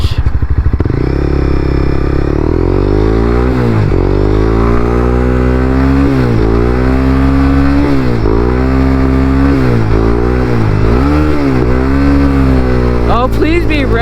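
A Honda CBR300 motorcycle ridden on the road, loud and close, its engine revving up through repeated rising sweeps with short dips between gear changes.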